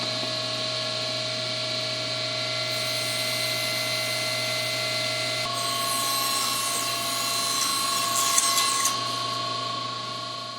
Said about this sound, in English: So I'm going to run them into the saw by about 1/2 inch, and that'll remove just enough of the tongue